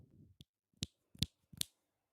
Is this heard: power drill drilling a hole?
no